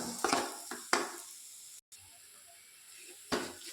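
Onion masala for an egg gravy sautéing in a pan, giving a steady soft sizzle with a few sharper stir and utensil clatters near the start and again at the end.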